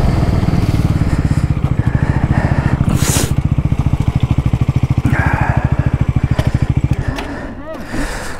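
A Bajaj NS400Z or KTM RC390 motorcycle races at full throttle in a drag race, its loud engine pulsing continuously before easing off near the end under wind noise.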